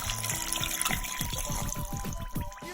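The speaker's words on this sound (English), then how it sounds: "We're gonna add 2 cups of water." Two cups of water pour into a homemade playdough mix with a close, continuous gurgling splash, burbling in quick repeated glugs as the liquid fills the bowl.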